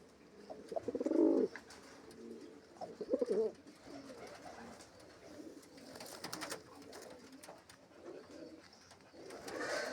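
Pigeons coo in soft, low burbling phrases nearby over a steady background hiss, with occasional rustling.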